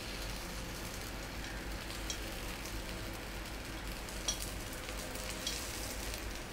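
Sweet rice paniyaram fry in a pan after being turned over, giving a faint, even, continuous sizzle with a couple of small pops and no voices.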